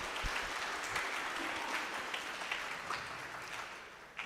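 A congregation applauds inside a parish church, a steady wash of clapping hands that stays even and fairly soft throughout.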